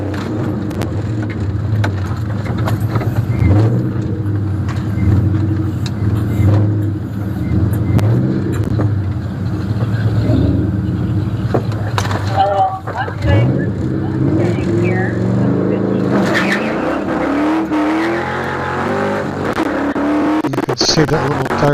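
A drag race car makes a pass while losing traction, its engine roaring loudly and continuously with rising and falling pitch as the throttle is worked on and off. The sound ends in a higher, whining rev near the finish.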